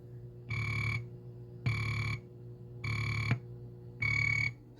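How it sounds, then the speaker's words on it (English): Electronic cricket chirp effect from a Bally Frontier pinball machine: four evenly spaced, buzzy, harmonic bursts about a second long, each separated by a short gap, heard close with nothing else over them. "the crickets are sounding"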